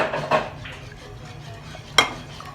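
Pasta sauce with milk poured in being mixed in a pan, heard as a couple of sharp utensil knocks against the pan over a quiet background, close, no talking.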